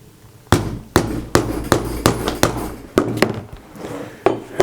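Leather belt end being rounded with a hammer striking a punch on an anvil: about a dozen sharp, close metallic blows in an uneven rhythm with short pauses between them.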